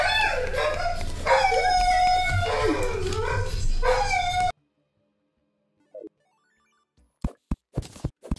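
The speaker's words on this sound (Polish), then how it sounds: "Pieseł się odezwał." A dog barking and whimpering in the background of a Terraria gameplay session, first under the din of game music, then a few sharp separate barks alone after a quiet stretch.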